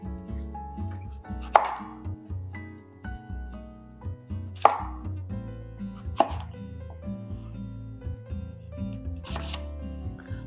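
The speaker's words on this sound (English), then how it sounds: "we're going to cut this into half moons" A knife cuts a vegetable into half moons on a board, with four sharp, distinct chops spaced a couple of seconds apart over a quiet kitchen background.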